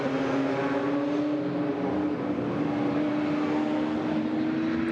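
GT4 European Series race cars circling the Hungary circuit behind a safety car at reduced pace, a steady continuous engine drone with sustained tonal hum, moderately loud and unbroken, no talk.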